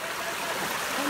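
A forest stream on a trek near Karjat flows with a steady, close hiss and gurgle, constant and moderately loud across a brief moment with no pauses.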